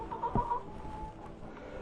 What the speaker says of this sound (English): I have the hens now all put in the hen house.